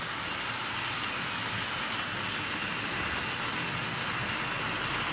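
A Wrenn A4 model locomotive runs on Tri-ang Super 4 steel track with a steady, even whirring hiss of motor and wheels. It stays constant and moderately close throughout with no pauses.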